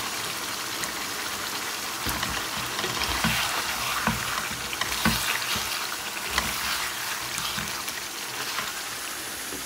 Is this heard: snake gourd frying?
yes